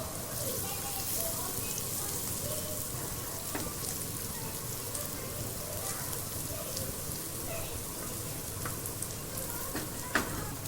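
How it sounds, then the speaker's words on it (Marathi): Paneer cubes frying in hot oil in a home kitchen, a continuous dense sizzle with small crackles and a sharp clink near the end, steady and close. "पनीर फ्राय होते"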